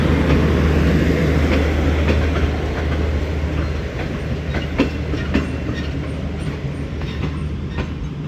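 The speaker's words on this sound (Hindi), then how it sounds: "ये चली गई जी अवाम एक्सप्रेस" Awam Express passenger train pulling out of Attock City Junction at night, a steady loud rumble with rhythmic clickety-clack of wheels over rail joints throughout, carriages rolling past close by.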